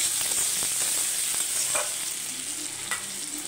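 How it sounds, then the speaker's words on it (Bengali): Onion and tomato fry in a generous amount of oil in a wok, a loud, continuous sizzle with light stirring scrapes, close up and without talk. "এদিকে পেঁয়াজটা আমার ভাজা হচ্ছে"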